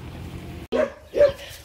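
A dog gives two sharp barks, fairly close, separated by a brief pause over quiet outdoor background noise.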